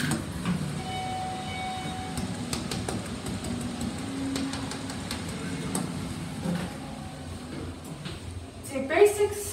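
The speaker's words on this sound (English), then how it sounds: "It's a basic scenic elevator." Schindler scenic elevator running inside a mall, a low steady mechanical hum and rumble with scattered clicks and knocks, under people talking.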